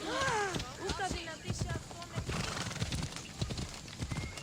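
Horse hooves in Assassin's Creed Odyssey clip-clop in a quick, steady rhythm, opening with a whinny over the footfalls and continuing with ambient game sound.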